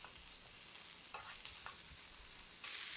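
Shredded carrots and mushrooms stir-fry in a spoonful of cooking oil with a pinch or two of salt, making a soft, steady sizzle broken by brief stirring scrapes.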